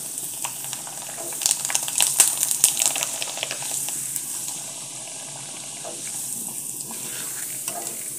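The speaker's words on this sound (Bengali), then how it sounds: "সেমভাবে আরও কিছু পাঁপড় আমি ভেজে নেব।" Lentil papad frying in hot oil, a bright hissing sizzle that swells with bursts of crackling midway and then settles to a steady simmering hiss.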